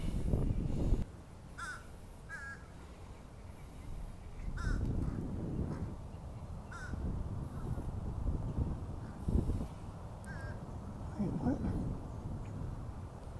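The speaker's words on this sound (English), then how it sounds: "I went to zoom in on a bird." A crow caws in short bursts outdoors, a few calls spread across the stretch, under a steady background of wind and low rumble.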